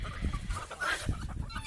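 Farm chickens cluck and fuss close by as a coop door opens to let them out, a busy overlapping chorus of short clucks with no talking.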